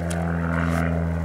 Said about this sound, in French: Excusez-moi pour l'avion, je suis pas loin de l'aéroport.